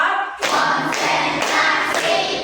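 Groups of hands clap together in steady rhythmic bursts, loud and close, with the beats repeating in even patterns.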